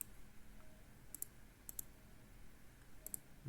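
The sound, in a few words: computer mouse clicks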